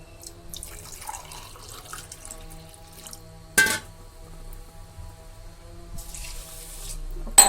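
Water is poured from a glass into rice for chicken pulao, a few short close pouring splashes and trickles separated by quiet gaps, with no talking.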